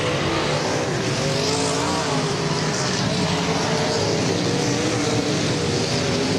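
Race cars roar continuously around a speedway oval late in a feature race, engines droning loud and steady as the pack laps, with a commentator's voice faintly underneath.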